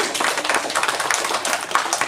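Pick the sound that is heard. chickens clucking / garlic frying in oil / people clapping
people clapping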